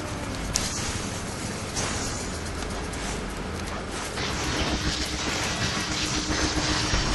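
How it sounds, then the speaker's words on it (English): A train powering up in the inFamous video game, a steady loud rumbling rail clatter throughout with a bright hiss at the top, swelling slightly in the second half, with no talking. "Sucks how, like, you're powering up the train"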